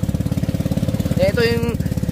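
One of the fastest fishing boats in Bukana, its engine running with a steady, rapid low throb throughout, close and loud, while a voice briefly cuts in near the middle.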